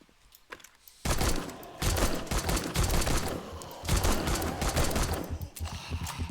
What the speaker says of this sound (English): with my pipe machine gun